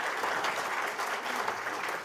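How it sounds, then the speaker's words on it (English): Audience at a Brain Injury Awareness Week event applauding to welcome guest speakers, a brief burst of even, moderately distant clapping with no voices. "We'll just give them a big round of applause"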